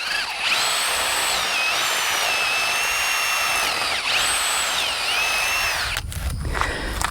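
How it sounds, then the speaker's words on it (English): A power drill bores into a steel fence brace in a goat-wire fence, its high whining motor holding steady with pitch dips and pauses, loud and close, then cutting off near the end. "That should be all the drilling we need to do today."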